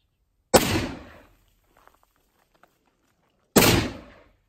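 Two sharp, loud rifle shots from a Hoenig rotary round action rifle, about three seconds apart, each with a short decaying echo and near silence between.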